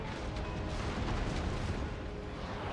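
Cannon artillery fire in the Total War: Empire strategy game, a dense low rumbling barrage of booms blending into continuous battlefield roar, heavy and steady with no talking.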